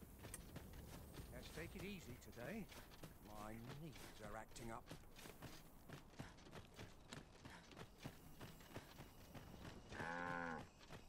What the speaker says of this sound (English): I just got mooed at.